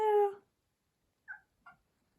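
A pet cat comes through a door at home, giving one clear, fairly loud meow followed by two shorter, softer chirping calls after a pause.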